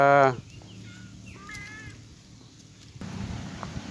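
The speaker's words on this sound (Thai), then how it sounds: "แมวเหมียวตามหลวงปู่มาทำไมครับ" A cat gives a short meow at the very start, then a few softer mewing cries follow against quiet outdoor background noise at a temple grounds in Lampang, Thailand.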